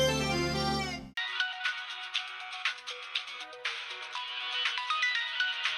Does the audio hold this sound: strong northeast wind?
no